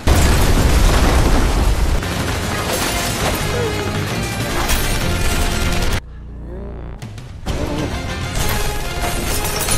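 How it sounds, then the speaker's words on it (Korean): A big grenade explosion in a zombie film, a dense roaring blast and crash that runs for seconds, cuts to a brief quiet gap, then returns in heavy rumbling chaos. "먼저 수류탄 큰 거 한 방 먹여주고 시작합니다"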